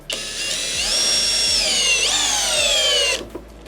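Kress KUA71 cordless drill driving a 300 mm lag screw into wood, a loud close motor whine that climbs in pitch and strains under load for about three seconds before stopping abruptly.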